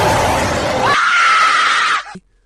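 A woman's scream rings out loud and close, a sustained high shriek lasting about two seconds before cutting off abruptly into silence.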